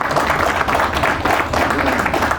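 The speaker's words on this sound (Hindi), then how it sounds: "तालियां सर के लिए।" An audience at a network marketing talk claps for a speaker, a short burst of steady applause filling the room.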